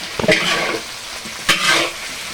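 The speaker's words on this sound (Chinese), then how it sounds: "来点豆瓣酱，炒出红油。 下入鱼骨，" Grass carp fish bones go into hot chili bean paste oil and are stir-fried, with a loud sizzling hiss and two bursts of scraping and tossing in the wok, heard close with no talk.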